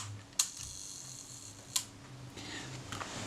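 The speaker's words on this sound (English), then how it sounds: "The shutter, that was set on a low speed," A Kodak Retina IIIC camera shutter set to one second fires: a sharp click as it opens and a second click about 1.4 seconds later as it closes, close and distinct against a quiet room.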